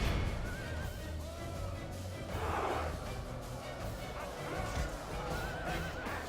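A horse whinnies as it dies amid a Medieval II: Total War battle, a short neighing cry rising out of constant battlefield din and clatter.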